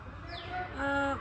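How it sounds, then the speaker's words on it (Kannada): A bird calls with a short rising whistle and then a few clear, sustained tonal notes over a quiet, slightly noisy outdoor background. "ಈಗ ನಮಗೆ ಇಲ್ಲೊಂದು ಹಕ್ಕಿಯ ಶಬ್ದ ಕೇಳಿಸ್ತಾ ಇದೆ"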